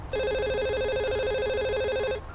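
A telephone rings in Grand Theft Auto Online: a loud, close electronic warble held steadily for about two seconds before cutting off, with no talking over it.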